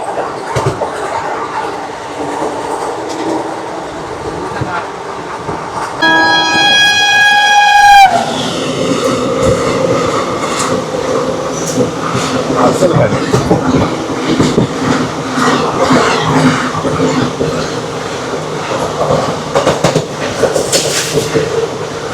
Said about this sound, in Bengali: তার পাশ দিয়ে ট্রেন ছুটে চলেছে তার দুরন্ত গতিতে